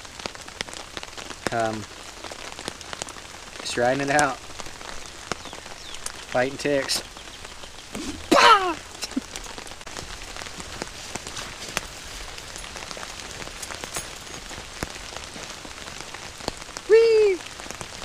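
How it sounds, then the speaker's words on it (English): Rain drums steadily on a tent during a thunderstorm on a camping trip, a dense close patter throughout, while someone speaks in short bursts now and then. "rain's picking up"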